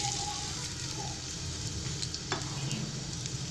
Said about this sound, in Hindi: कुकिंग ऑयल गर्म हो गया, अब मैं इसके अंदर प्याज ऐड कर दूंगी